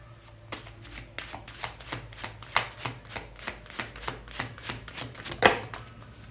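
A deck of tarot cards is shuffled and handled close up, producing a steady run of crisp, regular snapping riffles, roughly two per second, with no talking over them.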